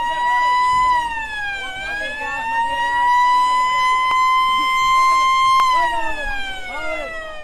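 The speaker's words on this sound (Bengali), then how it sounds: "চারদিকে কোলাহল আর লঞ্চের সাইরেন" A steady, loud, sustained siren from a passenger launch at Shimulia ferry ghat on the Padma, blaring continuously over crowd bustle with voices faintly underneath.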